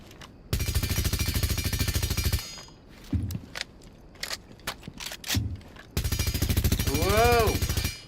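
Zero's low-recoil gun in a tactical shooter game, two long bursts of fast automatic fire at the start and end, separated by scattered single clicks and thuds, loud and close with a voice talking.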